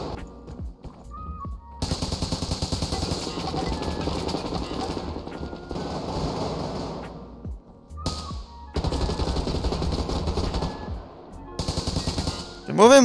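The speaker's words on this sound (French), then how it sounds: "Hé, hey, tu m'as tiré dessus." Bursts of automatic gunfire in the free online shooter Survarium, loud close sustained volleys separated by short quiet gaps, with a few isolated game sounds between.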